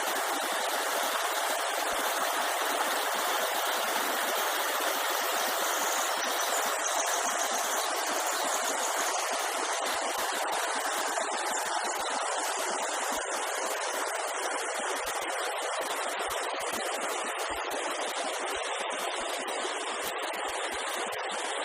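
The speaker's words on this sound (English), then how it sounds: "Streams and waterfalls and ocean waves, and what a magical place." A creek streams steadily through a wooded setting at Tannery Creek near Occidental, about eight miles inland from Bodega Bay, its continuous broadband rush of water loud and unbroken throughout with no voices.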